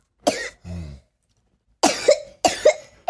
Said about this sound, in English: I'm still coughing because every time I go in bed, I just cough.